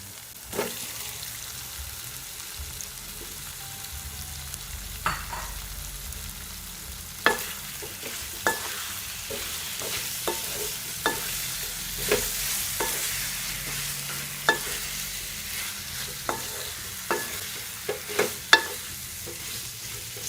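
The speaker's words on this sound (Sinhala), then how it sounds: "හාල්මැස්සු ටික එකතු කරලා ටික වෙලාවක් තෙලින් මලව ගන්න ඕන" Potatoes and sprats fry in hot oil in a pan, a steady close sizzle broken by repeated sharp scrapes and knocks of a spoon stirring them, with no speech.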